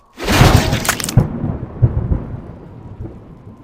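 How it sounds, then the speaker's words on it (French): A thunder sound effect in a Warhammer fantasy battle audiobook: a loud, sharp crack bursts in, then a deep rumble rolls on and slowly fades, with no voice over it. "frappa le front de l'orc dans un bruit de tonnerre"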